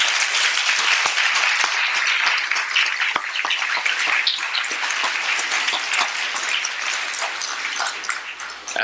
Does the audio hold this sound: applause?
yes